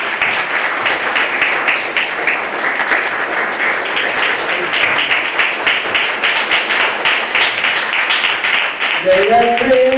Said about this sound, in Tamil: எல்லாம் கைதட்டும்.